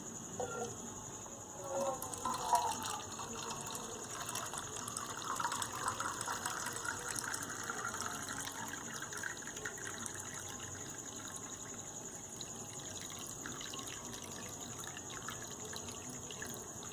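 Water pours into a container of water in a volume experiment and spills over the rim, a steady, soft gushing wash that runs continuously near the microphone without speech.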